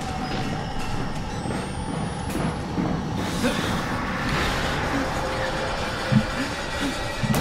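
Gas hissing from a vent in the horror game Outlast, a steady broadband hiss that runs continuously through the whole stretch with a low rumbling bed beneath it and a couple of small knocks near the end.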